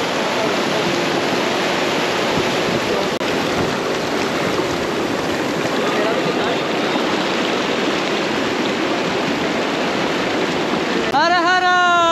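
A cold river on the Amarnath Yatra route via Baltal rushes close by in a loud, constant roar of water, with a brief voice or tone rising at the very end.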